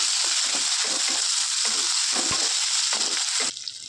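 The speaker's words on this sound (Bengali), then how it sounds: "লাল লাল করে পেঁয়াজগুলো ভেজে নিয়েছি এবার আগে থেকে কেটে রাখা টমেটোগুলো দিয়ে দিচ্ছি না নাড়াচাড়া করে নেব" Browned onions and chopped tomatoes frying in a pan for a spicy pabda fish curry, a loud continuous sizzle with stirring scrapes that cuts off sharply near the end.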